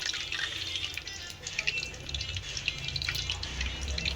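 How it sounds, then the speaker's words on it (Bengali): Oil dripping off butter-fried chicken as it is lifted out to drain, a close cluster of small liquid drips and patters over a low background hum, with no talking. "এই দেখো এরকম তেল ঝরিয়ে তুলে নেব।"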